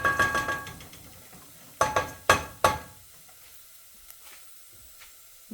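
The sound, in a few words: onions sizzling in a pan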